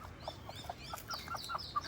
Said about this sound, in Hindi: अभी आप ये मुर्गा देख सकते हैं कितनी मस्ती में।